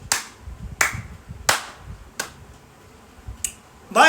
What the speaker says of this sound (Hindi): शर्मा के लिए तालियां